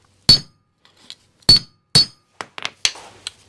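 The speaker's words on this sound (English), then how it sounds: "you won't get the shock from the hammer that you need to drive it in" Several sharp metallic hammer blows ring out at uneven intervals, driving a front wheel bearing into a Willys Jeep, followed by a few lighter taps and clinks.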